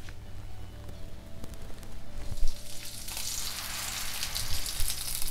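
Rolled chicken sheek kebabs frying in a pan give a steady soft sizzle that grows louder and brighter partway through, heard alone without talking.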